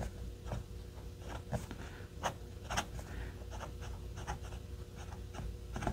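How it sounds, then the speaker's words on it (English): A Kaweco fountain pen with a medium nib scratches across paper close up, with a series of short, irregular strokes and taps over a quiet room hum. "let's put this pen to paper and see how it does"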